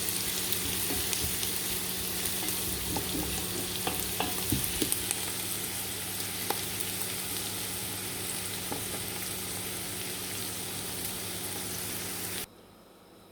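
Onion frying in a pan for chicken pasta, a steady close crackling sizzle with occasional stirring taps, cutting off abruptly near the end.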